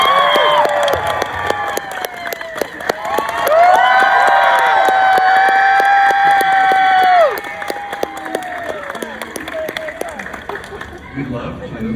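Loud convention-panel audience cheering and clapping swells suddenly, holds for a few seconds, then drops back to scattered claps and shouts, with a few voices audible in the crowd.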